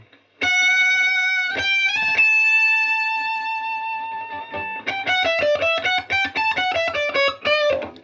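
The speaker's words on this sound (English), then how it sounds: "as soon as you start stacking overdrives and distortions, you do, bring a bit of hiss into the play" A heavily distorted electric guitar through stacked overdrive and distortion pedals holds a sustained, buzzing chord, then launches into a fast, gritty run of picked notes, loud and saturated.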